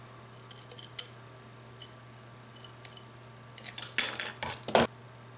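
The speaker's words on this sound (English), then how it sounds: "that's a little bit harder to cut right there" Scissors snip through canvas in a series of close, crisp cuts, sparse at first and then coming in quicker bursts, with no talking.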